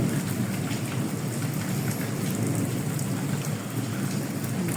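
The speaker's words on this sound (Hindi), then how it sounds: "बारिश हो रही है, देखें फैसलाबाद में" Heavy rain pours steadily in Faisalabad, a dense, continuous hiss of drops drumming on surfaces with a low rumbling undertone, close and loud throughout with no voices.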